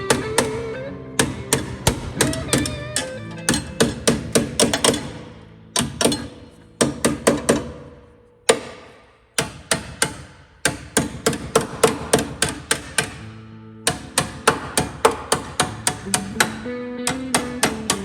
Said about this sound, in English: You just want to keep tapping until you hear